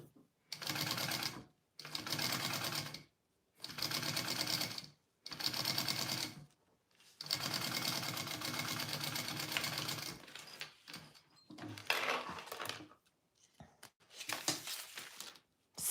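A sewing machine runs in repeated bursts of steady stitching with short pauses between, building to a longer run, sewing a bowler bag with binding; faint talk appears near the end.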